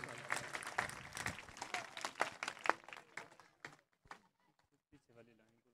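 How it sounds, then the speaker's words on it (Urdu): An audience at a children's annual result event claps loudly, and the applause thins into scattered claps before fading out. Someone speaks faintly near the end. "زوردار تالیاں بجا دے بچوں کے لیے"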